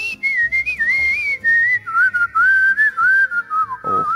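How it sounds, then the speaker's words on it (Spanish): A person whistles a continuous, wavering melody while breathing in and out, so the tone never breaks for breath; a low rhythmic accompaniment runs underneath, and the whistling stays close and clear throughout. "lo importante es silbar para adentro y para afuera"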